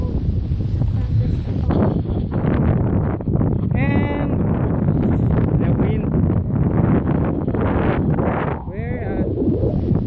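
Gusty wind blowing outdoors on a cold, sunny walk in Stettler, Alberta, a steady broadband rumble buffeting the microphone throughout, with brief voices and animal-like bleats passing through.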